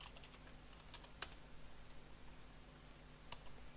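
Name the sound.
typing code on a computer keyboard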